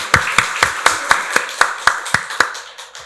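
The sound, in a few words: congregation applauding in church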